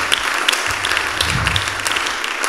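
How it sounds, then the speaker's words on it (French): A church congregation bursts into loud, dense applause at a testimony service, many hands clapping continuously and close by without a break. "Acclamons le Seigneur."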